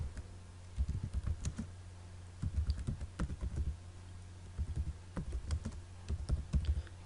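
Someone types a GW-BASIC program on a computer keyboard, with close, clicky keystrokes coming in short clustered bursts separated by brief pauses.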